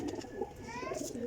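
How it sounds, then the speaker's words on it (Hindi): Pigeons coo softly in a short, throaty burst with a faint chirp, fairly close, over a low background murmur. "देखो जी कबूतर"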